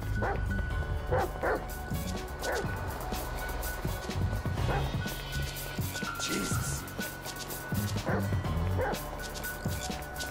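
Chop the dog in Grand Theft Auto 5 barking and yipping repeatedly in sharp bursts, close and loud, over a busy background, with a voice speaking briefly.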